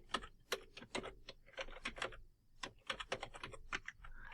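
Close, quiet tapping of keys on a computer keyboard as an email address is entered, a quick irregular run of clicks with a short pause midway.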